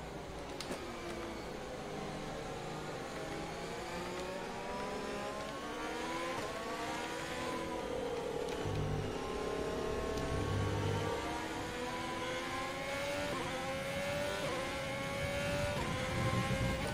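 Race car engine in the F1 2020 video game at the Ardennes circuit, with a worn engine, a continuous high whine whose pitch rises and falls with each gear change, loud and alone.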